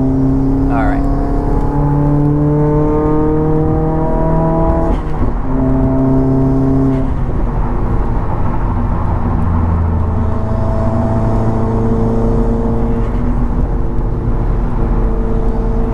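A Subaru WRX engine hums and revs while driving, a steady, loud drone inside the car that rises and falls in pitch as the car accelerates.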